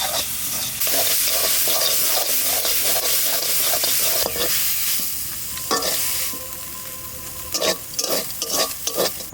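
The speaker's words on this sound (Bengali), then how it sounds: "এইবার দিয়ে নাড়া দেবে একটু একদম শাক" Leafy bathua greens are stirred in a pan as their water cooks off: a steady, close sizzle with repeated scraping stir strokes, sharper bursts of scraping near the end.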